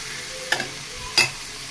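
Paneer fries in a pan for a curry, giving a steady close sizzle. Two quick scraping stirs cut through it.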